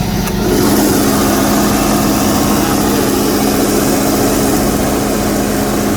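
A 1400 amp E&E studio diesel generator runs steadily with a loud, constant low engine drone and mechanical clatter, heard up close and alone, one injector reportedly leaking.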